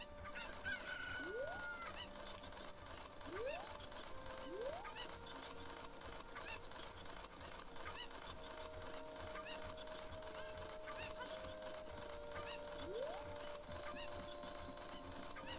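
Chickens in Zelda: Ocarina of Time clucking and crowing in repeated rising calls over continuous game music, faint in the mix and spread across the whole stretch.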